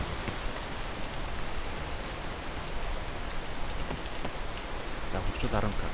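Steady rain falls on a mountain outing, a continuous broadband hiss of drops with a few brief faint sounds near the end and no clear talk.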